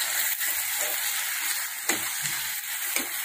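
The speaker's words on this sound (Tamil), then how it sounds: "நல்லா வதக்கிடலாம்." Egg gravy masala with coriander powder and homemade garam masala sautéing in a pan, a steady close sizzle broken by a few sharper scraping stirs, with no talking.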